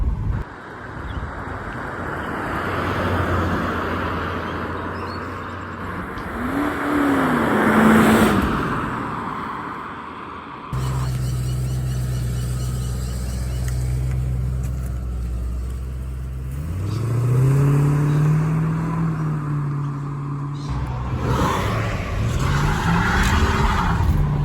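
A Ford AU Fairlane Ghia V8 with a single exhaust revving and accelerating through gears, loud and steady with rising pitch sweeps, mixed with strong wind and road noise.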